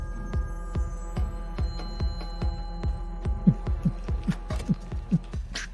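A pulsing club beat from the Halo video game plays as a steady, throbbing bass pulse with regular thumps about twice a second, moderately loud and with no talk over it.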